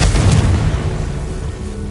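A Confringo fire-spell blast from Hogwarts Legacy lands as one loud, deep booming explosion with a crackling burst at the start, then a rumbling tail that fades over two seconds, no voices.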